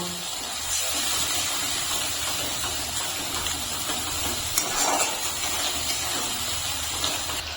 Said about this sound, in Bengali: এখন আমি মশলাটাকে ভালো করে কষিয়ে নিচ্ছি। আমি একটু জল দিয়ে দিচ্ছি, সামান্য জল দিয়ে ভালো করে কষিয়ে নেব।